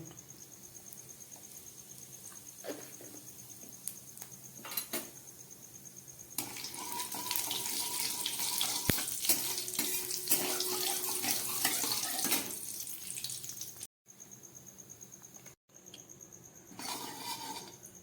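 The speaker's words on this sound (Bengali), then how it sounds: "এবার দিয়ে দিচ্ছি কিছুটা জিরে ফোড়ন" Cumin seeds splutter in hot oil for a Bengali snail curry, the sizzle bursting into a loud, steady hiss midway and then thinning out, with a faint high whine in the background.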